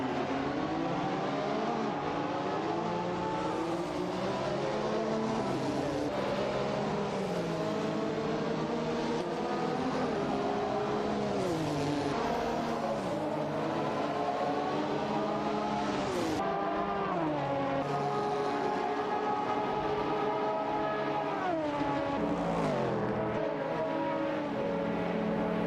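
In a racing video game, a Jaguar XGR9 and a Porsche 962C short tail battle closely, their engines whining and revving up and down through gear shifts in overlapping, continuous tones.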